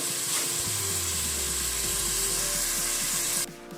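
Chopped onion softening in a hot pan gives a steady, close sizzle for most of the clip, with no talking, and the sound thins out abruptly near the end.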